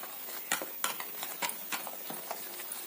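A fork or whisk beats an egg and milk mixture in a bowl for an egg bread snack, giving a run of quick, sharp clinks and scrapes against the bowl, close and fairly quiet.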